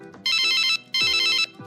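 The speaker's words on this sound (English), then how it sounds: "The phone in this cube works too." An office desk telephone in a work cubicle ringing with two loud electronic trilling bursts separated by a short gap, close and clear with faint background sound.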